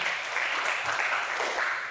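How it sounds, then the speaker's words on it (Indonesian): Steady applause from a church congregation, a dense wash of clapping that holds evenly at moderate loudness throughout. "Tepuk tangan bagi Tuhan Yesus."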